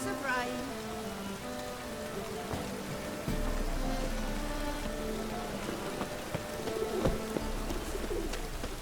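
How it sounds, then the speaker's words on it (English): Steady rain patters across the surfaces of The Witcher 3's game world, a soft continuous hiss layered under tonal background music, with a low rumble coming in partway through and no voices. "Lots of rain."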